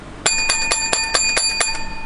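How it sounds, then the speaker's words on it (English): A bright bell struck in quick succession, about seven clear rings in a steady rhythm, loud and close with no talking. "Seven bells for the people."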